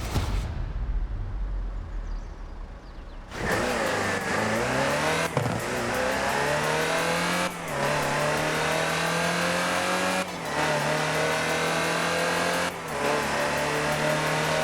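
A Land Rover Type 3 engine in the Forza video game, a loud sustained drone rising through repeated revs with brief dips between gear shifts, after a quiet opening moment, no talking.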